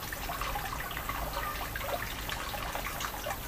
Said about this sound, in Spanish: El ruido de fondo de la bombita que cae el agua filtrada al estanque.